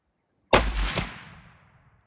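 A single loud, sharp crack from a 6.5mm SLR rifle fired at a long-range target, followed by a rumbling decay that fades over about a second and a half.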